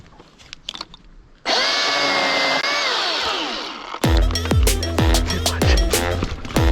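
Chainsaw on a backyard trail: after a few quiet knocks, the engine bursts into a loud, sustained rev that wavers and sags, then breaks into a run of sharp, repeated throttle surges close up.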